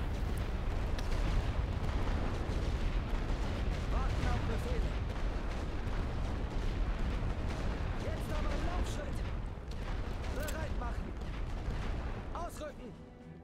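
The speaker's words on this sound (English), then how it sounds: "All right, so that barrage is done." A continuous artillery barrage in The Great War: Western Front video game rumbles on with deep booms and crackling distant explosions, while a voice talks over it.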